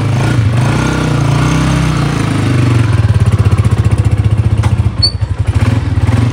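A cold motorcycle engine running to warm up, a loud close idle that settles into a rapid, steady pulsing chug, with no talk.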